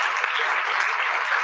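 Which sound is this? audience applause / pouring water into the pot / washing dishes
audience applause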